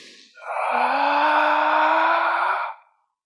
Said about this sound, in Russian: Сейчас сделаем фазу с тяжелым дыханием.